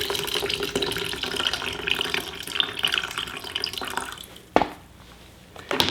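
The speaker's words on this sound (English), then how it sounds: "I'm just going to drain that right into my bucket." Water poured from a tilted tray into a bucket, a continuous close splashing and trickling that ends in a sudden splash, followed by quieter dripping.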